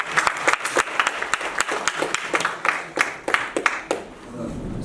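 An audience applauds a guest introduced on stage at an event, a lively burst of close, distinct hand claps in an uneven rhythm that thins out near the end.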